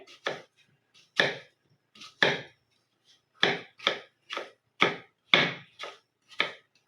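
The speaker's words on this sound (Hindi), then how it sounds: "अब हम सेब को भी कट कर लेंगे।" A knife cuts an apple on a board in about a dozen crisp, separate chops. They come close and fairly loud in an uneven rhythm, with short silences between them.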